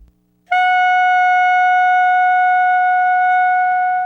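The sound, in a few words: clarinet mouthpiece and reed blown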